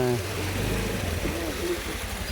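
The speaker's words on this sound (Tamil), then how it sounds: "இப்போ முள்ளியம்மன் கோயிலேருந்து தண்ணி ஜம்முன்னு வருது" A stream flows down from a hill temple in the Kadambur forest near Sathyamangalam, a continuous gurgling trickle heard close by under a voice.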